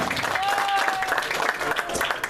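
An audience at a Kangen Water sales training session in Batam gives brief applause for a presenter, the clapping mixed with murmuring voices and a short tonal sound.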